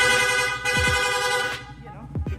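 A rapid horn fitted to a motorcycle blares in sustained, brassy bursts, loud and close, breaking off once before sounding again.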